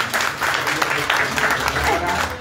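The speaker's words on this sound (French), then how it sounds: "Félicitations, merci de l'applaudir encore une fois." An audience at a ceremony supporting women's entrepreneurship applauds an award recipient, giving a steady wash of clapping and crowd noise that runs unbroken through the moment.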